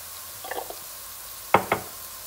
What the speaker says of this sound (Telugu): ఇవి కూడా కొంచెం వేగేలాగా తిప్పుదాం, అంతా కలవాలి ఇప్పుడు